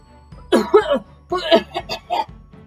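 A rough, hoarse cough sounds up close in a few harsh bursts, followed by more raspy coughing and throat noises.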